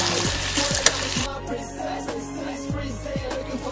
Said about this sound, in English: Onions and stir together with the spices.